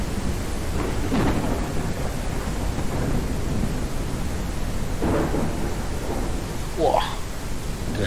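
A thunderstorm in the video game Ranch Simulator, with steady rain hiss and several low thunder rumbles. Voices talk faintly underneath.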